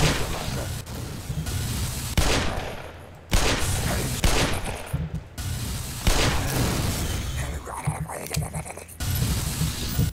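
Repeated gunfire bursts from a gun in the video game Black Mesa, loud and close, with sharp volleys and booming shots packed through the whole stretch and barely any pause.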